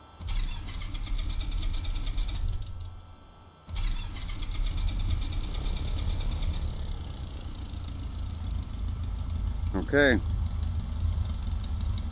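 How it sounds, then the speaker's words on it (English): Left piston engine, engine number 1, of an aircraft starting in the X-Plane 11 flight simulator: a close, loud engine rumble that briefly drops out, then catches and runs steadily, with a short spoken word near the end. "Yep, got a good start on engine number 1."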